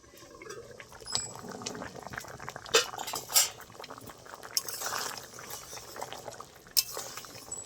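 Dal with garden taro and slit green chillies bubbles and simmers in a covered pot, a soft continuous burble broken by a few metallic clinks of utensils and lid, close and fairly quiet.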